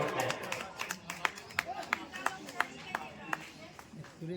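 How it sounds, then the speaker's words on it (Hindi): Enthusiastic clapping from an audience at a live event, sharp individual claps ringing out in a steady rhythm, fairly faint and distant under a voice talking. "तो जोरदार ताली हो जाए"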